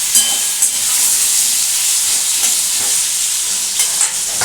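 Potatoes for chhana dalna fry in a pan while being stirred, with a loud continuous sizzle and hiss broken by periodic scraping strokes of the spatula.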